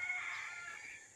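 A rooster crows once on a one-hectare farm lot in the Philippines, a single faint, distant call lasting about a second.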